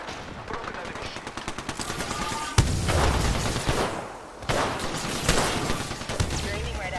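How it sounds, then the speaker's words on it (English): Dense gunfire in the video game Apex Legends, with rapid automatic bursts and heavier impacts coming in waves, and game voices heard faintly underneath. "In combat. I'm taking fire."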